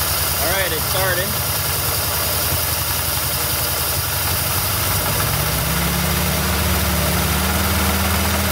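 A 1962 Sprite car engine runs at a steady low idle just after starting, with its twin carburetors being adjusted. The close, continuous rumble and vibration continue throughout, with someone speaking briefly over it near the start.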